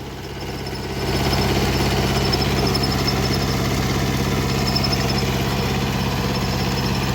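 A Kubota tractor engine runs steadily up close during potato digging, a loud, even mid-pitched drone with rough vibration that swells slightly after the first second and then holds constant.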